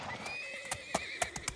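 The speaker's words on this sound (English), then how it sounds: "There's a horse right there." A horse in the survival video game SCUM neighs in a long, high whinny that wavers over about a second, followed by several sharp hoof clops, fairly close and clear with no talking.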